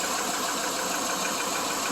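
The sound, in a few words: 2001 Subaru Legacy engine running with cam covers off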